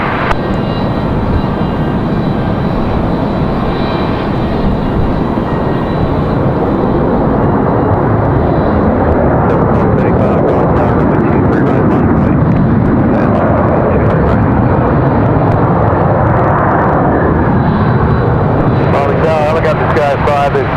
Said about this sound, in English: We've got Southwest touching down over here on this side.